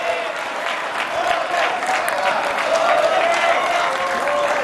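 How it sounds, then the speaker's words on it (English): A home crowd applauds at a table tennis match, the men's team tie between Singapore and Malaysia at the SEA Games, steady clapping and cheering filling the hall with some voices mixed in. "Home crowd enjoying his efforts though"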